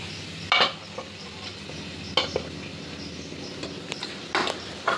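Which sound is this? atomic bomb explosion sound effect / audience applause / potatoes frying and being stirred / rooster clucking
potatoes frying and being stirred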